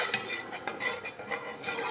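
Spices fried and stirred in a pan, with a metal utensil scraping and clinking against the pan in irregular strokes over a faint background sizzle, close and moderately loud.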